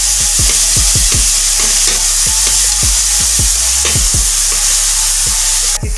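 Paneer cubes and mixed vegetables being stirred in a hot frying pan, a spatula scraping in a quick repeated rhythm over a steady, loud sizzle, close up, no talking.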